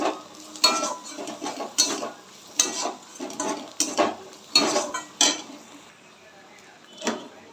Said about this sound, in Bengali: পেঁয়াজ লঙ্কাটা দেখো ভাজা হয়ে গেছে লাল লাল করে